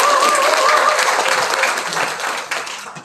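Audience applause at a political party labour committee launch event, a dense, loud wash of clapping that fades slightly toward the end.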